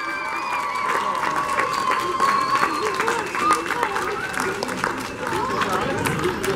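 A crowd applauds and cheers at a strongman competition in Mukachevo as a Hungarian competitor is welcomed, with sustained clapping under an announcer's amplified voice.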